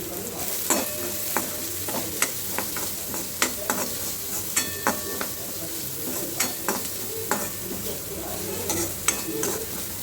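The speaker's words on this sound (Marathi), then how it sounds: "आता मी त्याच्यामध्ये कांदा घालून घेणार आहे।" Onion sizzles in hot oil in a kadhai, a constant crackling fry broken by regular scraping clicks of a spoon stirring, close and alone.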